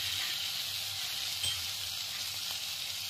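Mayonnaise idli being pressed and fried in a hot pan gives a steady, close sizzle with soft crackle throughout, alone without any talk.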